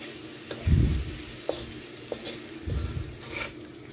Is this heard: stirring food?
yes